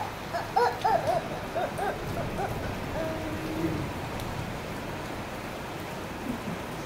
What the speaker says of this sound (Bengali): দেখুন বৃষ্টি।